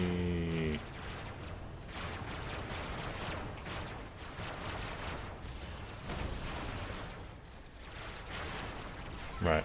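Plasma gun fire in the vehicle combat game Robocraft, a steady stream of fairly quiet, rapid discharges and impacts running through the whole stretch, with a brief tone at the start and end.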